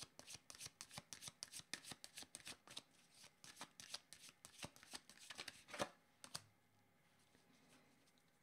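A deck of tarot-style cards is shuffled by hand close up, with quick rhythmic riffling bursts that repeat for several seconds. A final snap follows before it goes quiet.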